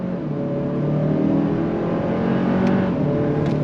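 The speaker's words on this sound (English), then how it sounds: "Decent sound coming from the engine and the exhaust." A 2025 Kia K5 GT turbo sport sedan accelerates hard under throttle, its engine and exhaust droning steadily and rising in pitch from inside the cabin, loud and continuous with no talk.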